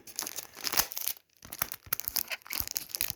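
A CD album package is opened with close crinkling, tearing and crackling of plastic wrap in irregular bursts, with a brief pause midway, fairly quiet and without talking.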